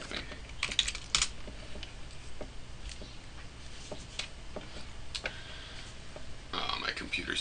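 Fingers type on a computer keyboard in quick, uneven bursts of clicking keystrokes, close and fairly quiet, with brief gaps between runs.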